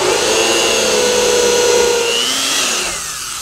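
A power drill boring through house sheathing, a loud steady whine held close up that winds down at the end.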